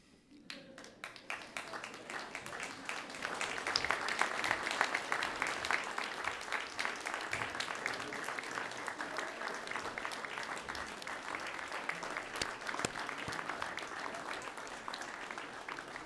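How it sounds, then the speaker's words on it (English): Graduates at a university graduation ceremony in Carmarthen stand and applaud their parents, a sustained, even wash of many hands clapping that swells after a few seconds and holds, heard from a distance in a large hall. "Would you like to stand and give your parents a clap of appreciation?"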